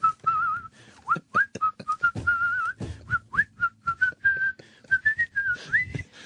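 A whistler, an international whistling competition winner, whistles a lively melody of quick, gliding notes and trills, played back as a recording, clear and fairly close, with no talking over it.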